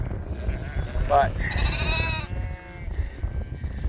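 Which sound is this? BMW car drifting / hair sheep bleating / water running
hair sheep bleating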